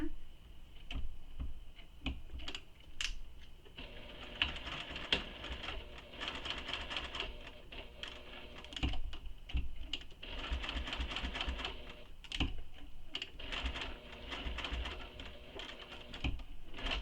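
A sewing machine stitches a bowler bag with a steady, fast ticking run that keeps going for most of the stretch, fairly close and fairly quiet, after a few sparse clicks at the start.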